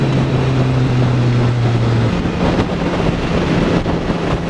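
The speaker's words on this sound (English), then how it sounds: "It's quite windy today." Steady broadband wind rushes across an outdoor microphone for several seconds, a continuous roar with a low engine-like drone fading in the first half and no voices.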